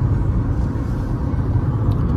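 Road and engine noise inside a moving Haval car with poor sound insulation, a steady loud low rumble throughout with no talking.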